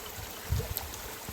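A brook along the Northville-Placid hiking trail gives a soft, continuous rush of flowing water, faint and steady, broken by a few low gurgles and light knocks.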